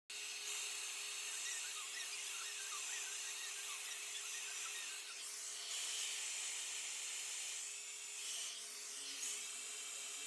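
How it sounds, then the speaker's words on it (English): A hair dryer fitted with a diffuser attachment runs steadily while drying curly hair, a continuous close whooshing hum with a faint whine and slight shifts in airflow as it moves around the head. "And now I'm gonna diffuse over my head a bit more, get more volume."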